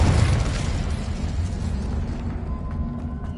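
Confringo fire spell blasts in the video game Hogwarts Legacy, a loud booming explosion right at the start that rolls into a rumbling, crackling roar and slowly fades over a few seconds.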